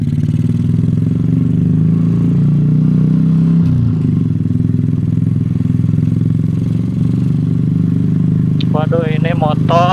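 Suzuki Shogun SP 125 racing motorcycle with a tuned engine and P26 carburettor, a steady close engine drone while riding that runs unbroken throughout, with a brief voice near the end.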